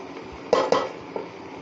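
A spoon clinks and scrapes twice against a pot as chicken is mixed with okra and tomatoes, followed by a fainter knock and a soft background hiss.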